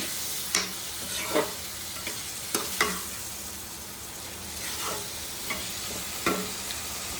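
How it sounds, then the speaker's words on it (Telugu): Raw prawns for a gongura curry sizzle steadily in a pan. A spoon stirs and scrapes through them at intervals of about a second, each stroke a sharp tap over the constant frying, with no talking. "ఇప్పుడు ఏదైతే కలిపేసుకుంటున్నాను నేను ఇవి కొంచెం మగ్గాలండి బాగా రొయ్యలు"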